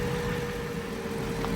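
A naturally aspirated Mercedes-Benz M113 V8 running at a steady idle, a continuous low rumble with an even, unbroken drone throughout.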